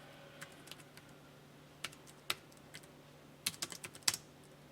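Sparse, crisp clicks of typing on a computer keyboard come in irregular bursts, a few isolated keystrokes followed by a quicker cluster, close and fairly faint in a quiet room.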